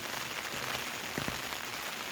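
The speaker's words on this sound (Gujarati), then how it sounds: "વરસાદ તો ચાલુ જ છે." Rain falling outdoors, a steady, even hiss of drops on surfaces that stays constant throughout, moderately faint and with no voices.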